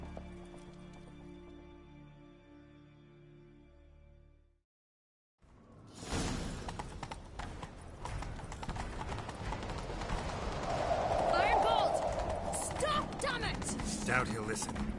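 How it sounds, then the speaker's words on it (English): Horses galloping in a chase scene from a game, with a steady drumming clip-clop of hooves that carries on for several seconds after a brief silence, loud and near, with some whooshing and scraping mixed in. "Grab a horse, we'll chase him down."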